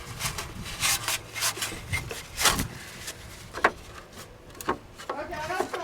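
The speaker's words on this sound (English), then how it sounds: "I'm gonna actually get a towel and wipe all the dirt off." A towel wipes dirt off the fender lens of a 1982 Ford F-150 Bullnose pickup, giving irregular close rubbing and scrubbing strokes in short bursts, with a few faint knocks between them.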